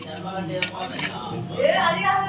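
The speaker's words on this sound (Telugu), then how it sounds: "ఇప్పుడు మనం చికెన్ వేసాం కాబట్టి ఇప్పుడు కలుపుకోవాలి, డీప్గా కలుపుకోవాలి దీన్ని" A metal spoon scrapes and clinks against a cooking pot as chicken is stirred for desi chicken, close and fairly loud, with a few distinct clinks.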